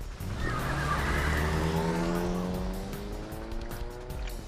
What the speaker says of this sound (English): The taxi lurched into motion, the engine quickly revving up to speed.